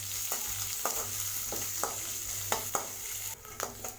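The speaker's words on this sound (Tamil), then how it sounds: "வெங்காயத்தை நல்லா வதக்கி விட்டுக்கோங்க" A large chopped onion sautés in oil for a brinjal potato kootu, with a continuous sizzle and regular scraping strokes of a spatula against the pan about every half second.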